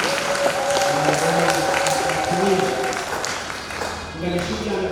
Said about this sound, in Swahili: Tupe Bwana makofi kwa ajili ya kazi nzuri.